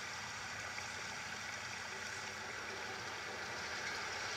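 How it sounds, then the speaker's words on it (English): Water rushes steadily through a dungeon chamber in Twilight Princess, a faint, even, continuous wash of flowing water with no distinct splashes and no voices. "now that the central chamber has water flowing through it"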